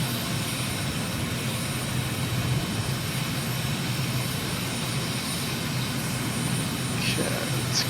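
An aircraft engine rumbles steadily as a plane taxis in Microsoft Flight Simulator at Madrid, a constant broad drone with no breaks that holds at an even level throughout.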